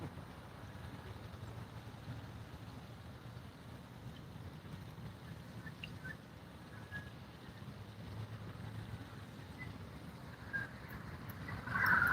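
Wind rumbles and buffets continuously over open water while bass fishing, a low roar with gusty swells and faint splashing, no voices.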